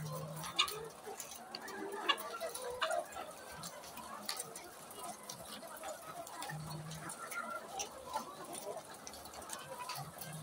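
Laying hens on a farm recovering from forced moulting give scattered clucks and short calls at moderate distance, with a person talking intermittently over the flock.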